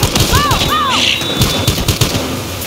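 Loud, rapid gunfire in the video game Battlefield Hardline, a dense continuous volley of close shots with a couple of whooshing effects mixed in.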